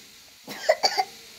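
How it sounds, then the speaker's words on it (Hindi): Someone coughs a few times at close range in a rural home kitchen where fish is being cut, with short rough bursts in quick succession and a final short one. "खांसी हो गया है"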